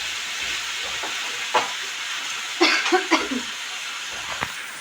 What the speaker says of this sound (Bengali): এই যে কড়াইয়ে আলু আর ওই কাঁকরোলের চচ্চড়ি করছি